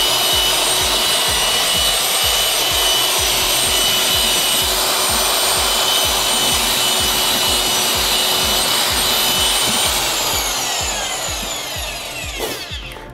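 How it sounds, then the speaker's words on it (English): A low-speed drill mixer churns unsanded wall-tile grout in a bucket, giving a loud, steady whir with a rapid pulsing scrape from the paddle. It runs continuously for about twelve seconds before winding down, with no talking. "Very important when mixing grout to use a low speed mixer, such as the one as I'm using here."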